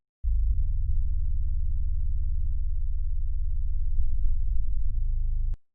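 A deep, dark filtered synth bass note in a deep house track holds steadily for about five seconds, muffled and low with no bright edge, then cuts off abruptly.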